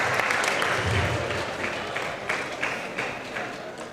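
Audience applause at the 2019 Lorain County Mr. Basketball award presentation, a steady wash of clapping that slowly fades over four seconds, with some scattered murmurs.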